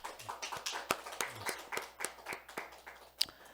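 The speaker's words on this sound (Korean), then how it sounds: "우리 모두를 위해서 박수 한번 치십시다." Clapping from a church congregation at a Sunday worship service, a run of fairly quiet, uneven handclaps from a modest group, with no voices over it.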